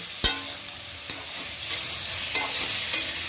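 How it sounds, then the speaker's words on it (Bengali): Malabar spinach curry is stirred in a pan: a continuous frying sizzle grows slightly louder, punctuated by a few sharp spoon knocks against the pan. "এটাকে আবার একটু ভালো করে নেড়ে চেড়ে নেবো"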